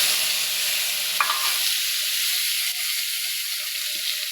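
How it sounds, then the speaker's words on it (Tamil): Chopped tomatoes and onions dropped into hot oil with popping mustard seeds for tomato kootu, producing a bright, continuous close-up sizzle and hiss. "இப்போ வெட்டி வச்சுருக்கேன் தக்காளியும் வெங்காயத்தையும் போட்டுக்கலாம்."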